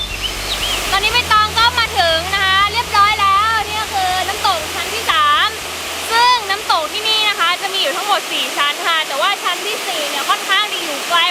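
A waterfall roars in a constant, loud wash of water at the second tier of Tad Ko waterfall in Phu Langka National Park, Nakhon Phanom, Thailand, while someone talks over it at length, close by.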